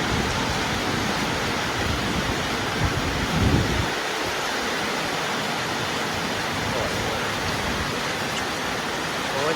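Heavy rain pouring down as a dense, steady roar that fills the scene, with a low rumble of thunder swelling briefly near the start, no voices.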